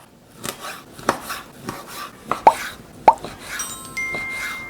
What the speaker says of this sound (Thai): อันนี้เราจะหั่นเป็นแนวยาวให้ดูนะ